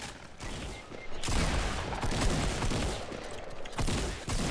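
Dense, continuous bursts of gunfire from a video game, loud and close, with several weapons firing in overlapping volleys throughout.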